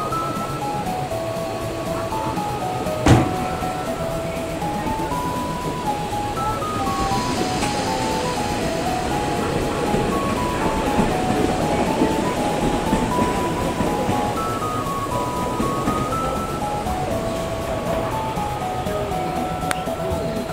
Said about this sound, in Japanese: 列車が回送していきます。 留置線にね入ってきますね